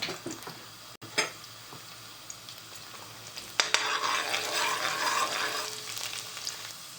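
Garlic frying in hot oil for a dry fish curry: a few clinks at first, then a loud, continuous crackling sizzle that starts partway through and keeps going.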